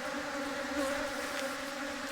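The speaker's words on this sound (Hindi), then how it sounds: "ये देखिए मधुमक्खी आपस में लड़ाई कर रही है" Honeybees from two swarms merged into one hive, fighting among themselves, give off a steady, dense buzzing drone that holds evenly throughout, close up and with no voices.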